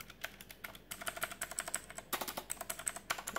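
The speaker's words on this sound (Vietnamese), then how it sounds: "Đây là switch, blue switch của bàn phím cơ Aula." Fast typing on an Aula KB890 mechanical keyboard with blue switches and a plastic top, giving a steady run of sharp, close clicks alone with no voices.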